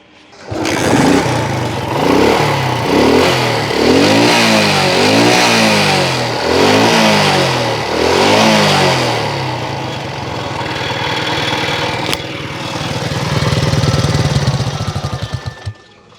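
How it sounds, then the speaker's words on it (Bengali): Runner Duronto 80 motorcycle engine revved repeatedly, close and loud: a series of rising and falling throttle blips in quick rhythm, then a steadier idle with a final rev near the end, with no talking. "এবার আপনাদেরকে গাড়ির ইঞ্জিনের সাউন্ডটা শুনিয়ে দেওয়ার চেষ্টা করব"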